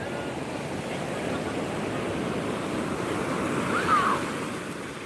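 Ocean surf rolls steadily onto Seminyak beach in Bali near high tide, a continuous broad wash of waves with wind rumble and a faint distant tone near the end.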